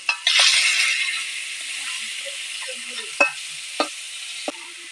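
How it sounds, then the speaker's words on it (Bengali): Fish drops into hot oil in a wok with a loud, close burst of sizzling that settles into a softer steady fry, broken by a few sharp clinks of a utensil against the pan. "মাছগুলো ভাজবো।"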